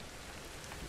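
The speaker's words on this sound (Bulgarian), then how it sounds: "Имам чувството, че този дъжд е безкраен" Steady rain falls in a video game, a dense, even hiss of drops on surfaces that stays quiet and constant throughout the short moment.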